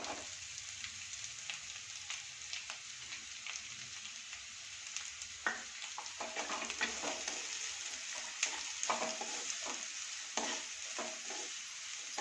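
Onions fried with ginger and garlic in a pan, a soft steady sizzle under repeated scraping and tapping of a spatula that grows busier in the second half, with no voices.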